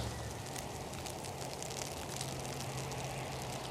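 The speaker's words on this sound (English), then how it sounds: "I love the raindrops on the foliage." Rain falling on leafy garden foliage of iris and heucheras: a dense, even patter that holds steady and fairly loud throughout, with no voices.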